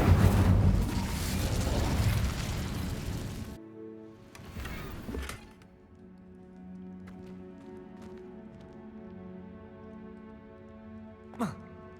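An Incendio fire spell is cast in Hogwarts Legacy, a loud burst of rushing flame and boom that cuts off abruptly. A second whooshing blast follows amid quieter game ambience and a sharp late swish.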